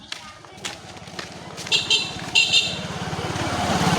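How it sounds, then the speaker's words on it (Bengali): A motorbike approaches head-on along a village road near a bridge. Its engine throbs with a rhythmic putter that grows steadily louder and nearer, with voices and brief tones over it. "সামনে থেকে একটা বাইক আসছে গাইস।"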